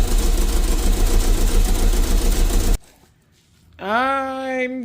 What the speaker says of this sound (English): The car does sound a little bit more calm, a little bit more at ease.